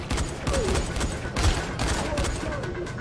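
Gunfire from a weapon in the first-person zombie game Dying Light, several loud close shots in quick bursts amid dense action noise, with a voice talking over them.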